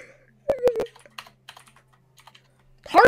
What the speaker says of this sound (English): turn off your clicky keyboard